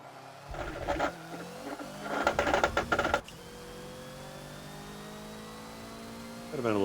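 A Hoonigan Ford Focus in the Forza racing game brakes and slides on a circuit, engine revs rising and popping in short bursts before a sudden cut, then a quieter steady drone and a final rev, all game audio without talk.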